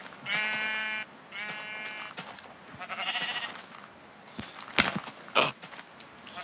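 Several sheep bleat in a Minecraft game during a mass migration, repeated nasal bleats coming in bursts close by, with brief clicks of footsteps between them.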